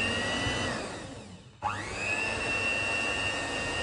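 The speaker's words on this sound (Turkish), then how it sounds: "Tekrar çok az robottan geçiriyorum." A food processor briefly running on ground walnuts and tahini for a cake batter, a loud steady motor whir that dips, stops for a moment, then starts up again with a sharp rising whine.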